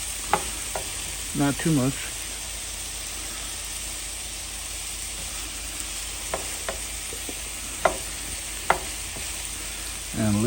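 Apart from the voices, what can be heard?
vegetables for stuffed peppers sizzling as they sweat in pan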